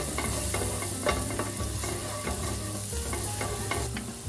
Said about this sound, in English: Let it start to sizzle.